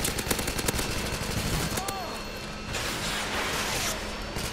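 Rapid gunfire at enemy aircraft in the video game Modern Warfare 2 comes as dense, loud bursts of shots over a constant roar of game noise, with no voice over it.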